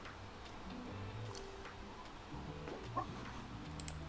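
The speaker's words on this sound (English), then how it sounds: "The birds will talk for me now." In the video game Tiny Bookshop, birds make soft, scattered clucks over a quiet, steady ticking background, faint and distant with no speech.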